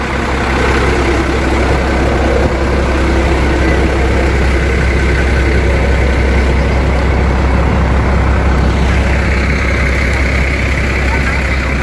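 Heavy diesel buses sit idling at the Monas departure point in Jakarta for the police-run free homecoming trips. A loud, constant low rumble fills the scene, with murmuring voices in the background.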